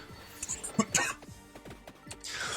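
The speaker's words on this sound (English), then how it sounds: "sorry, I still got a cough" A person coughs and clears their throat nearby, a few short rough bursts amid quiet background noise.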